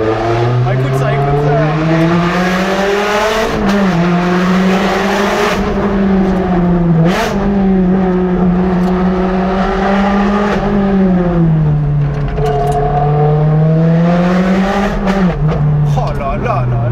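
A Ferrari 360 Challenge Stradale sports car engine drones loud and close, its pitch rising and falling with throttle changes, a few clicks and shifts breaking the steady roar.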